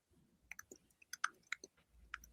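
Someone types on a keyboard with sparse, uneven clicks and taps, fairly close and quiet, with no talking.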